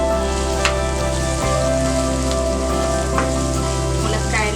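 Drumstick pieces sizzle in hot oil with ginger paste as the tempering for a chicken curry. The frying hiss is loud, steady and unbroken, heard close up with a constant low hum under it.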